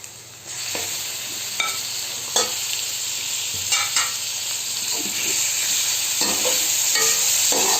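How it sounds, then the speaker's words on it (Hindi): Minced meat sizzles in oil with onions while a spoon clacks and scrapes against the pan at irregular intervals, close and continuous. "कीमे को हम अच्छी तरह ना इस सारे ऑयल में और प्याज में फ्राई करेंगे"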